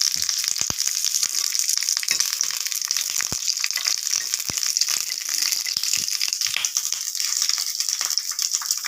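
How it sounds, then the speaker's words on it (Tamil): Green chillies sautéing in a hot pan for pottukadalai chutney, giving a continuous loud sizzle with scattered crackles and pops close up. "பச்சை மிளகா லைட்டாக வதங்கினால நான் அடுப்பு ஆஃப் பண்ணணும்"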